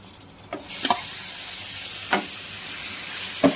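Mutton hits hot oil with onions in a pan, setting off a steady sizzle and hiss, with a few sharp stirring scrapes and clinks punctuating the frying.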